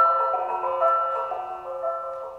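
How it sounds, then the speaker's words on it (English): Chinese tuned gongs in an orchestral percussion section sustain a shimmering, ringing wash of layered metallic tones that decays slowly across a couple of seconds, moderately loud with no voices. "Chinese tuned gongs."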